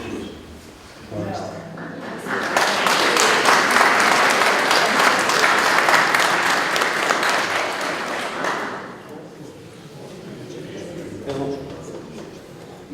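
Sustained audience applause for a speaker at a Christian politics panel discussion, swelling loud for several seconds then fading, with talk before and after the clapping.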